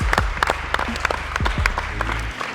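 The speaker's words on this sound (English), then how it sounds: "everyone give a big round of applause for all of them" A short burst of audience applause for basketball players competing for pro contracts, scattered hand claps over a low rumbling hum, fairly close and fading after a couple of seconds.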